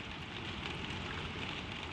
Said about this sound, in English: the rain lies soft on the glass